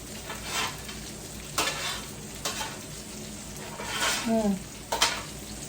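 Green beans with smoked turkey sautéing in a pan, a steady sizzle with several stirring scrapes of a utensil against the pan, up close.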